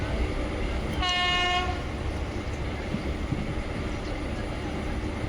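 A superfast train roars past close by with a steady heavy rumble, and its horn gives one brief bright toot partway through.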